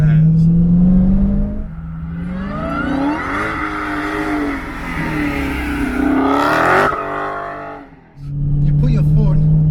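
A 707-horsepower Dodge Charger SRT Hellcat engine revs and accelerates hard, rising and falling in pitch through several loud, close surges before dropping back to a steady drone, while someone talks over it.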